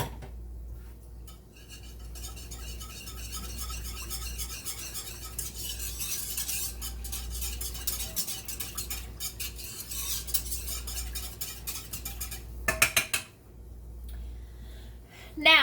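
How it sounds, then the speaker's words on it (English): Ingredients with Sweet Baby Ray's barbecue sauce whisked together in a bowl, a steady light metallic scraping and clinking that runs throughout under a low background hum, ending with a few sharper clinks. "we're going to go ahead and whisk all that together"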